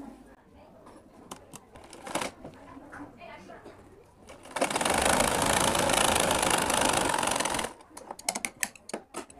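A sewing machine runs in one steady burst of about three seconds, stitching down the middle of a folded strip of fabric for a school skirt belt. Scattered handling clicks and faint background chatter come before and after.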